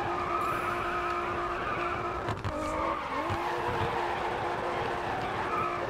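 A 2003 Nissan Silvia spins out in the racing game GRID Autosport, tires skidding and squealing over a steady engine drone, continuous and fairly loud.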